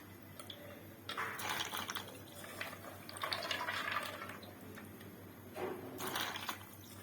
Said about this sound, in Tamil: இப்போ நல்லா பாஸ்தாவை கழுவி வச்சிருக்கேன். இப்போ வந்து இதில் போட்டுக்கலாம்.